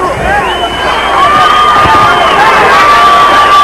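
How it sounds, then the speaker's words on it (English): Boxing arena crowd during a Roy Jones Jr. versus Fermin Chirino bout, a loud sustained roar of cheering and shouting that swells and holds, with a commentator's voice over it. "now he's hearing it from the crowd, egging him on"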